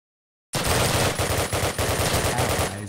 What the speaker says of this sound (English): And a fantastic shot from Hobbs into Sticky.